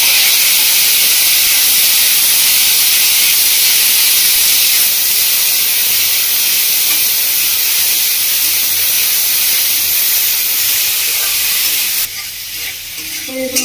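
Raw mango pieces hit hot oil spiced with tempering seeds, giving a loud, continuous close sizzle and hiss that holds steady before dropping off sharply near the end.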